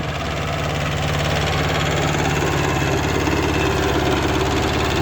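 A Kubota B5001 tractor engine runs steadily and close while rotary tilling, a continuous low rumble with a chugging mechanical rhythm throughout.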